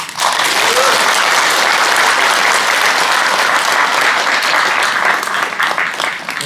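A crowd at a book launch event breaks into loud, sustained applause, many hands clapping densely and evenly for several seconds before easing slightly at the end.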